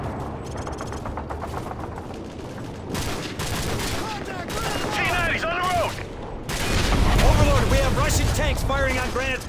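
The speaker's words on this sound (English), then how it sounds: "We're taking fire!" Dense gunfire from a Modern Warfare 3 firefight, bursts of automatic fire layered over one another and swelling louder toward the end, with shouted voices over the shooting.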